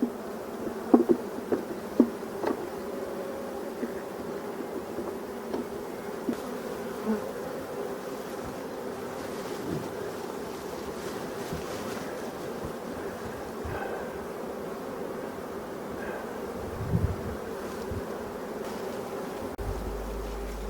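Honeybees buzz around their hive in a steady, dense drone, moderately close and continuous, with a few faint knocks and no talking.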